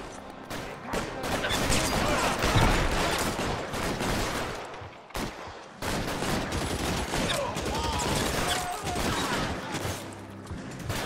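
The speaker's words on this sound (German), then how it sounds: "Das war eine automatische Waffe." Automatic weapon gunfire in the video game L.A. Noire, heard as a sustained, dense clatter of rapid shots, loud and close, with one short break midway before the firing resumes.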